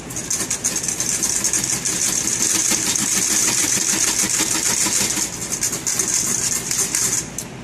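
A whisk beats a mixture in a bowl, a rapid, steady clatter of quick rhythmic strokes, close and fairly loud, continuing without pause before easing off at the end.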